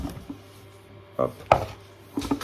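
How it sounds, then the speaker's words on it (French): Spoon stirring a drink of water with two spoonfuls of powder mixed in, sharp clinks against the glass in a few separate bursts with quiet gaps between, close and alone. "On touille un petit peu."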